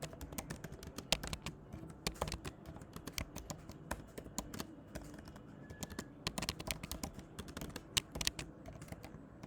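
Rapid computer keyboard typing of code for a Kotlin arrays programming exercise, a steady stream of close, crisp key clicks with brief pauses and no talking.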